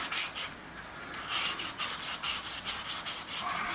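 Fine 1000 grit wet and dry paper rubbed round and round inside an engine cylinder, a close rhythmic swishing of repeated strokes at a steady pace, with no voices.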